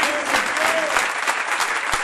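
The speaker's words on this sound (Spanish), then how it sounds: "Dele un fuerte aplauso a su Señor." A church congregation at a Spanish-language worship service gives loud, dense, continuous applause that fills the whole stretch without a break.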